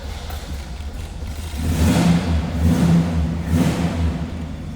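A 1967 Pontiac GTO convertible's 400 cubic inch V8 fires up and revs close by, a steady low rumble swelling louder around the two-second mark and holding a throaty, pulsing roar to the end.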